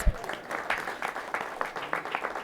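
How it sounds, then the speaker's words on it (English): Scattered applause at a Washington, D.C. convention center event, moderate and somewhat uneven, with individual claps standing out in a loose rhythm. "Give them a big round of applause."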